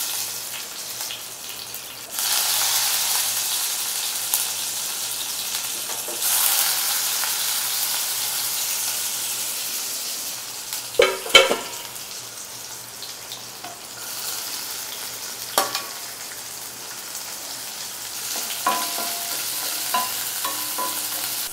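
Spices crackle and hiss in hot oil in a pan as tempering starts for a broad bean and tomato curry, a steady sizzle with occasional clatters and a trickle of running water.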